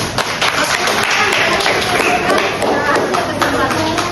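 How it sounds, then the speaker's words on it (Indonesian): Classroom of students applauding during a practice teaching lesson: a loud, dense burst of clapping that holds evenly for a few seconds. "Oke, boleh kasih tepuk tangannya dulu."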